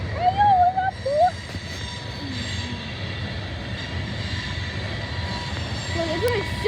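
A loaded coal train passes with a steady rail rumble and wheel squeal, while high whistling squeaks come and go and voices speak over it.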